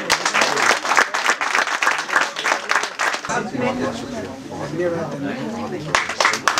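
Enthusiastic applause from the audience at a Hindi poetry gathering (kavi sammelan), bursts of loud clapping that thin out midway while a voice talks over the crowd, then pick up again.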